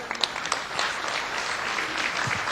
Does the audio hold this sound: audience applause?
yes